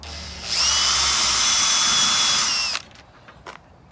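A power drill whirs loudly and steadily for a couple of seconds, then spins down and stops, leaving faint rustling.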